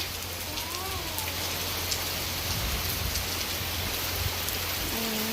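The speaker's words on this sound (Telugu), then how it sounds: "మీ ఊర్లో కూడా వర్షం పడుతుందా" Steady rain falls continuously, a dense, even hiss of drops across the whole stretch with no talking.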